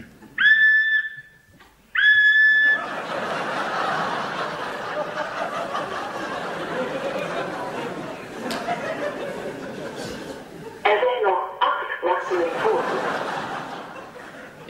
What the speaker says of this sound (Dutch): U kunt het boodschap inspreken naar de fluittoon.